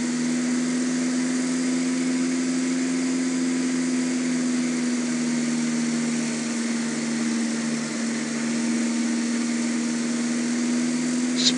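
A light aircraft engine at 2400 RPM in Flight Simulator X, a loud, steady droning hum holding an even pitch throughout, with no talk over it.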